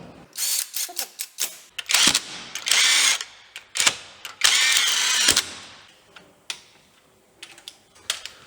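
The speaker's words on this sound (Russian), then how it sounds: "Закручиваем болты ГБЦ заданным моментом." Power tool driving and tightening the cylinder head bolts on a Mercedes-Benz OM 471 engine from an Actros 1845 truck, in loud repeated bursts of whirring and rattling, a few sustained for about a second, with shorter taps and clicks between.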